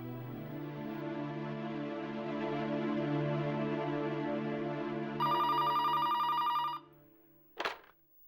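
A telephone rings during a call in a Marathi television serial, a steady electronic ringtone pattern playing continuously, then a brief bright chime before it cuts off.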